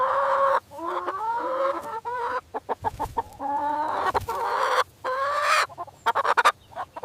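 Close, loud chicken clucking and squawking in uneven bursts with brief pauses between them, lasting about seven seconds with no talk.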